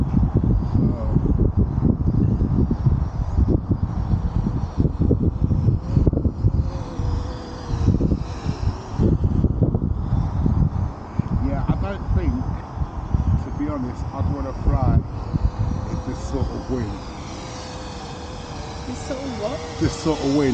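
Strong wind roars and buffets a microphone outdoors at a drone flying field on a very windy day. The rumble is loud and constant, with gusty swells throughout and no clear pauses.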